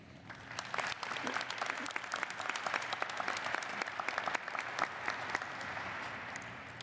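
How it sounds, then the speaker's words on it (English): Graduates at a dental medicine diploma ceremony applauding families and friends, sustained dense clapping from a large hall crowd, fairly distant and even throughout. "So can we please get a round of applause for our families and friends that are here with us today"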